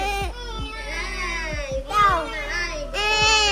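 A baby cries in repeated wailing bursts with short gasping pauses, close and fairly loud, with faint thumps in between.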